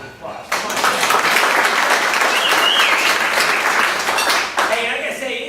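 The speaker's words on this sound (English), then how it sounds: "Just give a round of applause" Sustained crowd applause at a Sonoma County public meeting, loud and dense, starting abruptly and fading near the end, with scattered voices mixed in.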